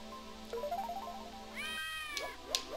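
A peacock enemy in Donkey Kong Country 2 on the GBA, on a bramble level, gives a cat-like meowing cry over bouncy game music, followed by a second higher wailing call.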